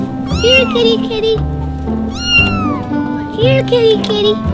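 A cartoon cat meows in repeated rising-falling calls, three loud bursts over a busy music bed with no other voices.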